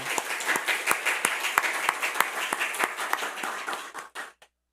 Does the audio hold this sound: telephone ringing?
no